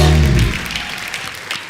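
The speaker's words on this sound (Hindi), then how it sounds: "तो एक बार हाउसफुल 4 की पूरी स्टार कास्ट के लिए जोरदार तालियां." A studio audience on a Hindi comedy talk show applauds the film's star cast. A brief low voice or music tail opens, then moderate crowd clapping continues steadily and gradually thins.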